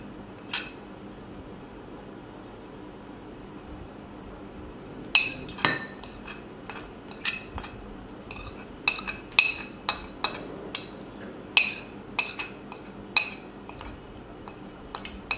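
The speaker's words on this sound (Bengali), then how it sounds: "এবার আমি লেবুর রসের সাথে সবগুলো মশলা একবারে মিশিয়ে নেব।" A spoon clinks against a bowl while spices are mixed with lemon juice for baked fish, a series of sharp, light taps in an irregular rhythm over a quiet room background, with no talking.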